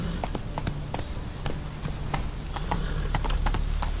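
Horse hooves clip-clop at a steady galloping rhythm in The Witcher 3 video game, moderately close and continuous over a low ambient bed, with no talking.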